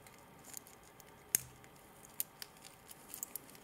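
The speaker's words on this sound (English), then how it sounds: "fold the safety clasp." A stainless steel watch bracelet's folding safety clasp on a Vostok Amphibian watch is worked by hand, giving a few faint, sharp metallic clicks and ticks over a quiet room background.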